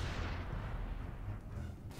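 A deep, rumbling blast from explosive missiles fired by Boomers in Gears of War: Ultimate Edition, heavy low boom rolling on for about two seconds with no voices over it.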